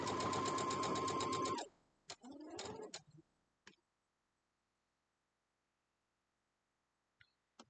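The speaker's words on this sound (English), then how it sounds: "let's sew all these up. Might run out of thread in my bobbin." A sewing machine stitches pieces together with a dense, rapid mechanical whir for about a second and a half, then several shorter bursts and handling clicks before falling quiet.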